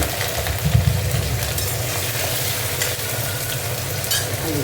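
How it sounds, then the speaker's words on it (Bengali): Potato pieces fry in hot oil for a vegetarian cauliflower-and-potato posto dish, giving a dense, continuous sizzle that stays loud and steady throughout with no talking. "আলুগুলো একটু লাল করে ভেজে নেব।"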